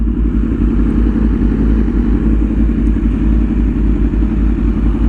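A sport motorcycle fitted with an aftermarket exhaust can runs loud and close, a deep rumbling engine note with rapid pulsing throb and a clattering edge throughout.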